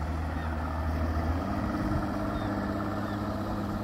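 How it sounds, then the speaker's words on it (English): Fishing motorboat with a big engine passing on the water off Cedar Point in Sandusky, Ohio, a steady low engine drone that holds close and fairly loud throughout the few seconds. "There's some boaters going out to go fishing."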